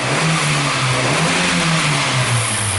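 A 2010 Honda Fit with a lack of power revs under acceleration, its engine drone rising only slightly; a loud, steady, close hum with a low harmonic tone and no talk.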